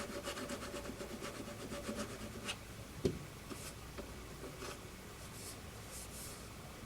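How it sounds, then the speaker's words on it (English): Steady faint scratchy rubbing of fine sanding on a plastic Moebius 2001 EVA pod model part, continuous strokes with a small tap partway through, close up and without talk. "I think we're good with sanding."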